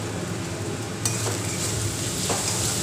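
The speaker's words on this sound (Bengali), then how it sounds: "খুব ভালো করে মশলাটা দেখুন আমি ভেজে নিচ্ছি" A spice mixture fries in a pan for a vegetarian chickpea masala curry, with a pinch of sugar added. A steady, close sizzle runs throughout, broken by a few soft stirring scrapes, with no talking.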